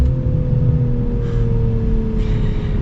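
A 2025 BMW M440i accelerates hard from inside the cabin, with a steady, loud engine drone and deep low rumble rising continuously for about three seconds, without talk.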